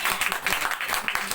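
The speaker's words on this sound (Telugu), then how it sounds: "చప్పట్లు పట్టండి." A church congregation claps hands together in rapid, steady applause, close and loud through the whole stretch, with no voices rising above it.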